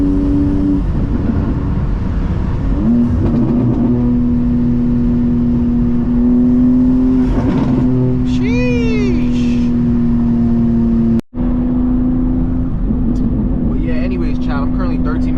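A manual BMW M2 tuned to 600 horsepower drones and revs while driving, its engine note rising and falling under cabin noise, with people talking inside the car and a brief dropout midway.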